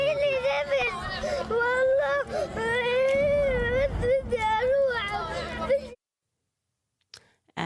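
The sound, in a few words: recording of child crying in fear while fleeing bombardment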